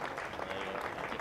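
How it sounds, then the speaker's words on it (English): Steady applause from a cricket crowd at a County Championship match between Warwickshire and Hampshire as players leave the field, continuous and even throughout, with a faint voice underneath. "applause as they head"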